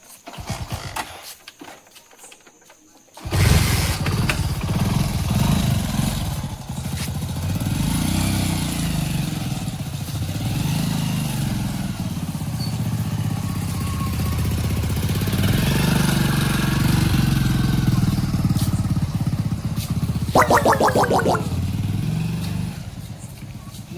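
A motorcycle engine starts up after a brief rattle and runs steadily with a low throbbing idle for a long stretch, close and loud.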